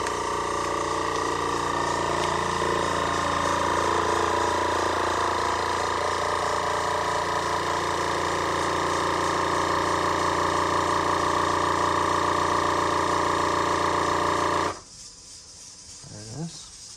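A LEM Max Vac 100 vacuum sealer's pump motor drones steadily for a long stretch while sealing deer jerky, then cuts off abruptly, leaving near quiet.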